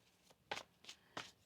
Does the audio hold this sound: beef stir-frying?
no